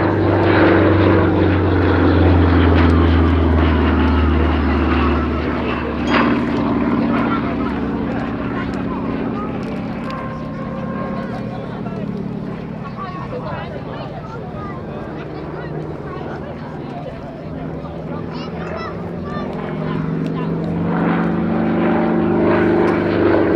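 Pitts Special aerobatic biplane at an airshow, its engine and propeller droning steadily at a distance, with the tone swelling and fading as it manoeuvres; an announcer talks over it throughout.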